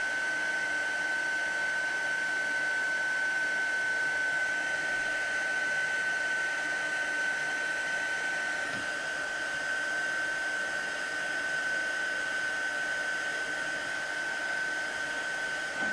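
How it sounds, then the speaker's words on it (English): A heat gun held over a card to puff up embossing paste makes a steady, loud blowing whoosh with a constant high whine, running unbroken throughout. "we're just going to hold that heat gun still"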